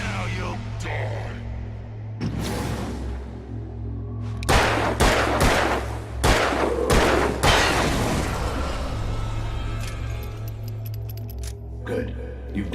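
In the video game Alan Wake, loud gunshots ring out in a handful of sharp reports, with a cluster of rapid blasts in the middle, heard under a speaking voice and a low ambient drone.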